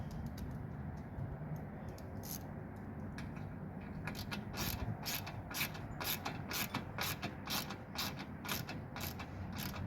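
During product assembly, screws are started by hand and tightened. A rapid series of close ratcheting clicks and creaks repeats in quick bursts over a constant background hiss.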